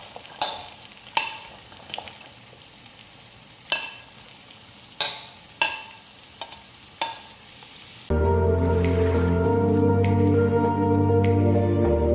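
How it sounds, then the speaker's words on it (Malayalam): Shallots are sautéed in oil for a Kerala-style beef curry: about a dozen sharp spatula knocks and scrapes against the pan come first, then a loud, steady frying sizzle with continued stirring takes over. "ഇനി നമുക്ക് ചുവന്നുള്ളി ഇട്ട് വഴറ്റാവുന്നതാണ്."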